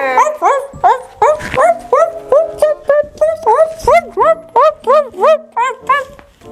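A dog yips and whimpers in a quick, steady series of short high cries, close and loud, with some faint talk around it.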